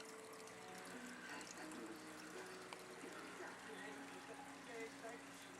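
Air bubbles stream and gurgle in a 75-gallon aquarium holding a parrot fish, flowerhorn, guppy and pleco, a faint continuous watery trickle with a low hum underneath.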